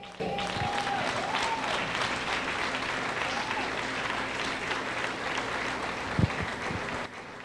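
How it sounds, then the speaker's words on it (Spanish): A church congregation at a prayer service claps loudly and continuously, a dense sustained wash of hands with a brief whistle early on and a couple of thumps near the end before it cuts off. "Aplauda al Rey."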